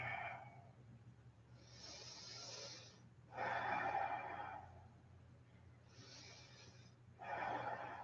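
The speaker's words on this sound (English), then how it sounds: "Breathing deep here." Deep, slow breaths during a yoga session, with broad airy inhales and exhales swelling in turn over a low steady hum, close to the mic and fairly loud.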